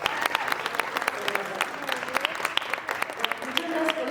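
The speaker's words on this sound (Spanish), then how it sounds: "Por favor, démosle un fuerte aplauso." Scattered applause from an audience at a book presentation during the Guadalajara International Book Fair, with individual sharp claps standing out over a quieter room and a voice faintly underneath.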